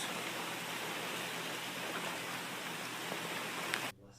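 Light rain falls outside as a soft, even hiss of drops, steady and gentle, cutting off abruptly near the end.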